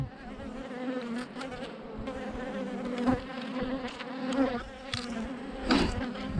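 Steady buzzing of many honey bees close by, a dense droning hum with louder swells as individual insects pass near.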